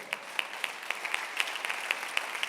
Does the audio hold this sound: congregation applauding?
yes